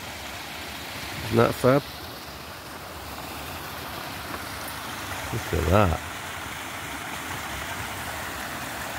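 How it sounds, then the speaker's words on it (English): A natural waterfall in a river valley in Central Portugal, heard from a ledge high above, gives a steady, distant broadband rush. People talk briefly twice over the continuous roar. "that's a natural waterfall you can hear down there."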